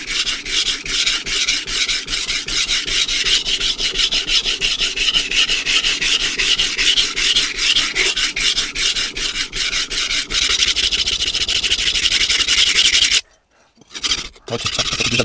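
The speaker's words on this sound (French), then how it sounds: "on va passer sur la pierre comme si vraiment je faisais un affûtage avec un grain plus fin" Knife blade stroked repeatedly on a Naniwa Advance S2 #220 whetstone, a close, loud and continuous rhythmic rasping scrape that stops abruptly near the end, leaving a couple of brief quieter scrapes.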